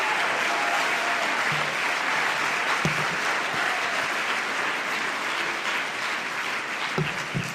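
Convention audience at an international women's service organization gathering applauding in a large hall, sustained dense clapping that holds steady for several seconds with a few sharper individual claps standing out.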